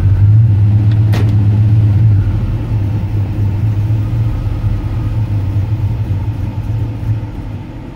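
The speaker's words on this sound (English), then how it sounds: "it's the goddamn torque converter" A car engine strains against a 4L60E torque converter, heard as a loud, close low rumble with a strong droning tone that gradually eases over several seconds, no talking.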